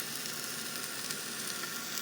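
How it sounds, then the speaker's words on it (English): Pork sizzles steadily in a hot pan, a continuous crackling hiss with small pops and no talking. "they're sizzling away nicely"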